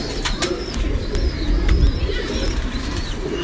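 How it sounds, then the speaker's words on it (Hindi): Breeder pigeons coo softly and steadily over a low rumbling background, with a few brief chirps and wing sounds. "ये गर्मी खोरे कबूतर हैं।"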